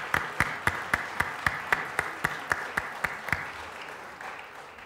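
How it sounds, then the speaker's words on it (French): A small audience at a tourism awards gala claps for the jury members, starting as a string of distinct, fairly close hand claps in an even rhythm that soften and fade out over a few seconds. "J'aimerais qu'on les applaudisse."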